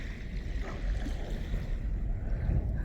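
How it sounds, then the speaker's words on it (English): Small waves wash against the Lake Michigan shore in a soft, continuous rushing swell, fairly quiet and steady, with faint wind and no voices. "listen to the waves and maybe find a couple interesting rocks"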